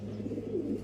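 A racing pigeon gives a low, soft cooing call, one short rolling phrase heard close and alone.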